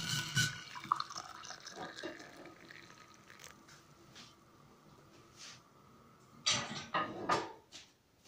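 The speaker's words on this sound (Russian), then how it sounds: "И заливаем кипяточком." Boiling water from a kettle is poured over salt, with faint trickling early on and a louder splashing pour near the end in a quiet room.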